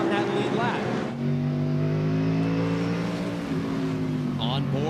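On-board sound from the Grainger Ford race car during a 1999 road-course race, a loud steady engine drone with rising and falling harmonic tones, with a commentator talking over it throughout.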